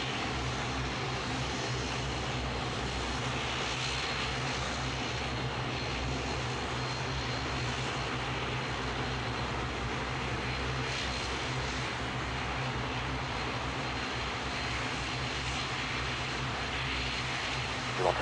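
An aircraft engine runs on the runway at Manchester Airport, a steady broad roar that holds at an even level throughout, with no voices over it.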